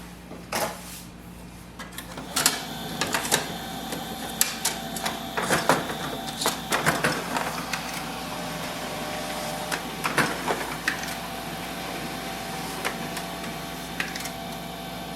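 A Canon imageClass MF3010 laser printer prints a document: it starts with a low steady whir, then a series of sharp mechanical clicks and clunks as paper feeds, settling into an even motor hum with occasional taps.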